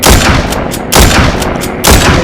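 Gunfire in the Walking Zombie video game: three loud, sharp shots spaced about a second apart, each with a short booming tail, with no talking.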